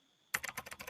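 Rapid keystrokes on a computer keyboard, about six close, crisp clicks in quick succession after a brief quiet moment, with no voice.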